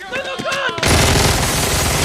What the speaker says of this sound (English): Whistler shows up almost immediately and just starts shooting people randomly like the badass he is